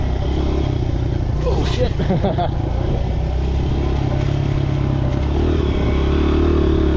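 Small dirt bike motorcycle ridden through sand by an adult rider too big for it, a loud steady engine drone with wind rush and clatter close up, a brief exclamation from the rider partway through.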